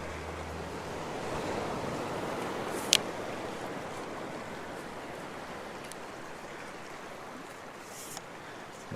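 Ocean waves wash steadily onto the shore at Hervey Bay at sunset, a broad continuous roar of surf with light wind buffeting and a couple of sharp ticks, no voices.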